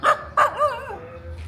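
At a dog park in Battambang, Cambodia, a dog gives two sharp, close barks followed by a short whining yelp that trails off.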